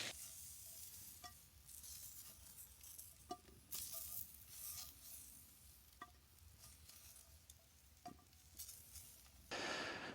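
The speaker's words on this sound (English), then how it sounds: "get some dark spots on these, grill them a little bit" Vegetables grill over a winter campfire, a steady soft sizzle and crackle at low level with a few sharp pops and clicks scattered throughout, no voices.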